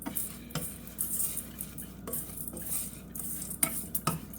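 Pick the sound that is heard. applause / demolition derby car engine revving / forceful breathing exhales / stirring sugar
stirring sugar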